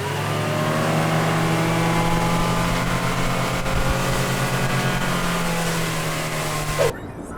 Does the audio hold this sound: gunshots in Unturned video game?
no